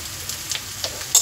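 Potatoes, onion, drumsticks and green chillies frying in a pan, giving a soft steady sizzle with a few brief crackling bursts, close and moderately quiet.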